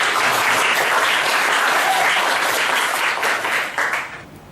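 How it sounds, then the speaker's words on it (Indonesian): A vocational high school classroom breaks into loud applause for a student's answer, a dense burst of many hands clapping together for about four seconds before it fades out. "Bagi tepuk tangan untuk jawaban teman Anda."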